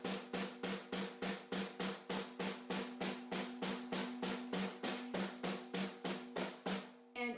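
Snare drum struck with sticks in an even, steady stream of about twenty-five crisp, bright strokes alternating right and left hands and then both together, close and alone.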